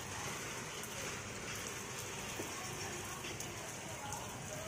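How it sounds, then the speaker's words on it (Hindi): Steady rain patters and hisses continuously on surfaces nearby, a constant wash of sound with faint voices in the background. "बारिश आ गई है आज"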